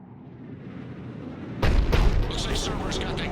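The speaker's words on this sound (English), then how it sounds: "Looks like Cerberus got that cannon operational, Commander." A large cannon fires artillery in the video game Mass Effect 3, a sudden heavy boom cutting in over a steady background rumble, followed by echoing blasts and crackling debris, with speech mixed in.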